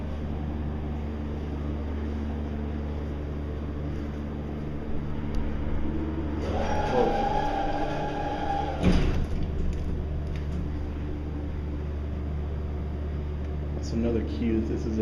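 A Schindler glass hydraulic elevator at Belk in Riverchase Galleria, Hoover, Alabama, runs with a steady low hum, a door slides partway through, and a person talks over it.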